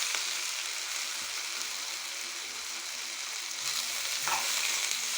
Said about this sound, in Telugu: ఇలా బాలలో మనం వేయించుకోవాలి కాకరకాయని